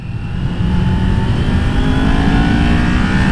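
A Kawasaki Ninja 400 motorcycle pulls hard in third gear on a highway, its loud engine climbing steadily in pitch as revs rise toward 6,000–7,000 rpm, with a raspy intake-like whoosh layered over the drone.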